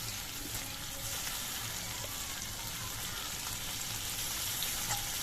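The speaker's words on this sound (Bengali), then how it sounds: "এবার সব মশলা দিয়ে আলুগুলোকে আরও বেশ কিছুক্ষণ কষিয়ে নেব" Potatoes are sautéed in a pan with turmeric, chilli paste and cumin paste. A soft, steady sizzle continues throughout, with faint stirring scrapes mixed in and no one speaking.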